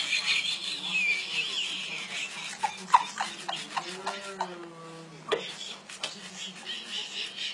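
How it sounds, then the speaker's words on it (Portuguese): Toothbrush scrubbing against teeth, a steady bristly rubbing with quick strokes through the passage, close and moderately loud, with some vocal sounds and chuckling mixed in. "Escovando assim, vocês vão ter pra sempre um sorriso branquinho"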